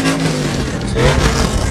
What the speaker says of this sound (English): We need to get away from that truck. That thing is so loud.